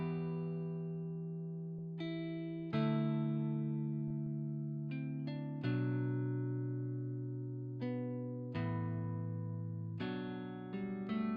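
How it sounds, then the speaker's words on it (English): A slow, emotional guitar chord progression built as a pattern in FL Studio, with sustained plucked chords changing every second or two and ringing out, clean and fairly quiet, with no talking. "that is pretty much a super simple way to get that emotional chord progression with the guitar"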